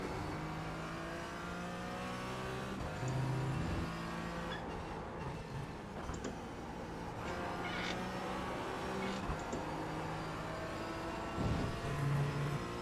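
Race car engine in a racing sim game lapping the VIR circuit, a continuous droning engine tone rising and falling through gear changes and revs, moderately loud and steady with no talk.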